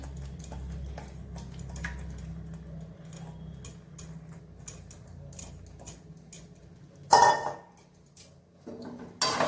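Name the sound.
spatula stirring palak paneer in a pan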